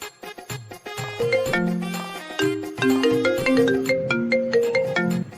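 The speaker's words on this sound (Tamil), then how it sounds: "அம்மா ஃபோன் பண்ணுறாங்க" A melodic phone ringtone plays loudly and alone, its bright synthetic tones stepping through a repeating tune with crisp plucked attacks.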